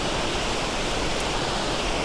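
Lumb Hole Waterfall pouring in an autumn setting, a dense, continuous broadband rush of falling water that fills the scene evenly and loudly with no other sounds.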